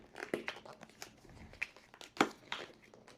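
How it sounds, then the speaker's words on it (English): Protective plastic film peeled and crinkled off a phone box, a string of close crackling rustles with a few sharper tearing bursts. "Let's peel off the plastic."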